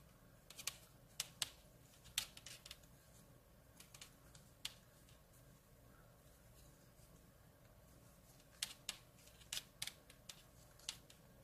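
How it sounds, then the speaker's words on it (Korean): Scissors snip knitting yarn in a quiet room, sharp short clicks in two clusters at the start and end, close and crisp, with a near-silent gap between. "가위로 잘라주시면 돼요."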